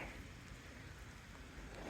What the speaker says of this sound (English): It's a very rainy day.